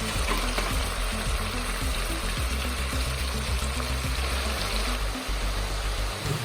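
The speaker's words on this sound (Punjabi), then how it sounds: "ਗੰਡੇ ਨੂੰ ਭੁੰਨਣਾ ਚੰਗੀ ਤਰ੍ਹਾਂ 골ਡਨ ਬਰਾਊਨ ਕਰਨਾ" Sliced onions frying in hot oil for a kaddu kofte gravy, a loud continuous sizzle and crackle with no voices.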